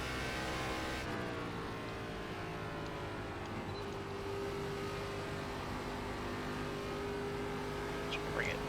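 A race car engine drones steadily through laps at Darlington in the iRacing ARCA Menards Series sim, its pitch holding high with a slight rise and sustained, close and loud throughout.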